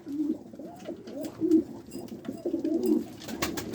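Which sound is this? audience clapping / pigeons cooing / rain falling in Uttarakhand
pigeons cooing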